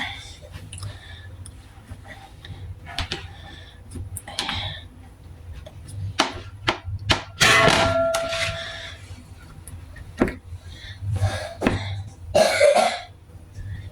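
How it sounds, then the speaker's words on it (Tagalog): A pet coughs: several short, rough coughs and throat-clearing hacks come in bursts, close by, with faint clicking and background noise between them. "Inuubo yung aking alaga dyan."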